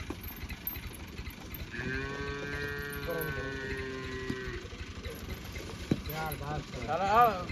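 A cow moos in long, drawn-out calls on a Punjabi farm during animal training, fairly close and loud, with people talking and farmyard noise around it.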